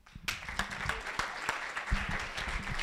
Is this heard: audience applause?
yes